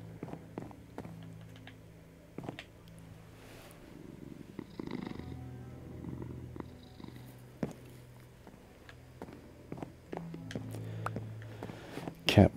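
A pet cat purrs softly in Minecraft, a low steady rumble running under scattered light taps and footstep-like clicks.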